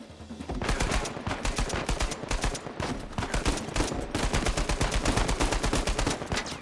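Rapid automatic gunfire rattles in long, loud bursts from a firefight in Uncharted 4, with dense repeated shots and brief gaps between volleys.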